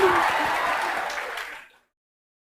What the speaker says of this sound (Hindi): तो एक बार सुरा के लिए जोरदार ताली लीजिए।